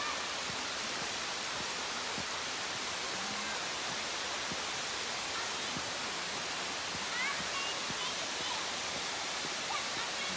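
Steady broadband roar of Tiffany Falls waterfall in a Hamilton conservation area, constant and fairly near, with voices faintly under the rush.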